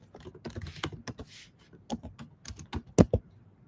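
Typing on a computer keyboard while entering an email address: a quick, irregular run of close, crisp key clicks with brief pauses between bursts, a few louder keystrokes near the end.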